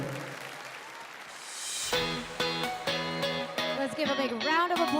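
Crowd applause for a singer at the Miss CosmoWorld Philippines 2023 finale swells softly for a couple of seconds, then gives way to loud sustained music with tonal chords.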